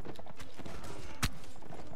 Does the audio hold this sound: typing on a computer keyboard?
no